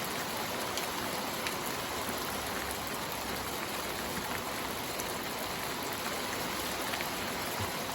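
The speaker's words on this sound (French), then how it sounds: "Que de la grêle et neige mêlée, de la grêle" Hail mixed with snow and rain falls during a March spring shower, a dense, even patter and rush that stays loud and unbroken throughout.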